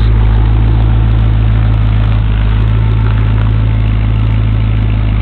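A 1959 Chevrolet station wagon engine idles steadily just after a cold start, a loud, close, even rumble with a regular exhaust pulse and no pauses.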